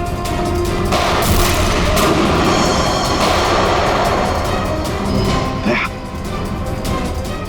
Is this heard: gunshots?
yes